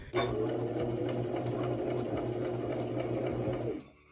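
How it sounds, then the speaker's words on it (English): A sewing machine stitches a dress, a continuous close whirring hum with rapid needle clatter running steadily for a few seconds before stopping. "We are finally sewing the dress."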